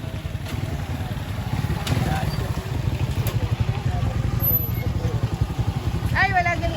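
Habal-habal motorcycles idle and putter nearby on Carabao Island, a steady, throbbing engine chug running throughout with brief sharper noises and people talking over it.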